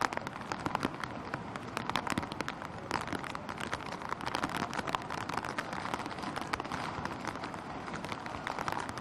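Heavy rain pours down during the Kerala floods, a dense continuous hiss of drops pattering on surfaces, steady and unbroken throughout.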